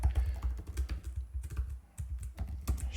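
Fast typing of code on a computer keyboard, with a dense, steady stream of close key clicks and brief pauses between bursts, with no talking.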